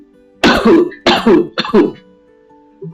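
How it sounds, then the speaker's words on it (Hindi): Several harsh coughs and throat-clearing bursts from a sick girl in a quiet classroom, three close distinct bursts in quick succession, then stillness. "वे दोबारा खांसी।"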